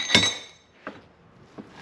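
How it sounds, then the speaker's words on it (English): A heavy hammer strikes an axle CV joint three times: a loud metallic clank, then two fainter knocks spaced under a second apart, close up in a workshop. "Big hits, nice heavy hammer."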